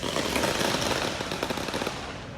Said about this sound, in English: Protesters continuing to set off fireworks.